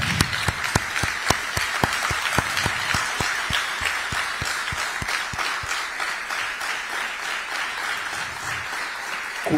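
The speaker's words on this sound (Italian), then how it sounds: "e volevamo dedicargli un applauso" Applause at a football club press conference in Dimaro breaks out steadily, a dense run of sharp claps from a small gathering close by that continues evenly for the whole stretch.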